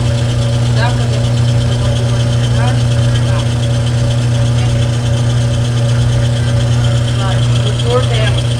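The motor of a Consul Super Mare 10 kg washing machine runs with a steady, loud, close hum. Faint voices and small clicks can be heard over it.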